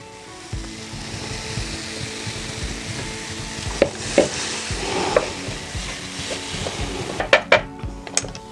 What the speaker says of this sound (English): Those onions with the flour have got a lovely sizzle on.